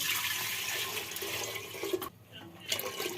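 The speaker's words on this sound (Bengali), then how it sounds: "আর এখানে আমি জল দিয়ে দেবো।" Water pouring steadily into a cooking pot of rice with cashews, cardamom, cinnamon and cloves, a continuous close splashing rush that briefly dips before resuming.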